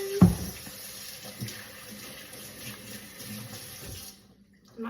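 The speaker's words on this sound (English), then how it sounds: "Okay, I'll wash my hands." Hands being washed under a running kitchen tap, a steady close splash of water on skin and into the sink for several seconds, then the flow stops abruptly and leaves near silence.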